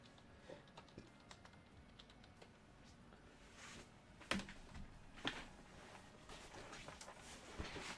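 Steady keystrokes on a wireless computer keyboard, clicking in quick irregular bursts at close range, with a few louder key presses standing out against a quiet background.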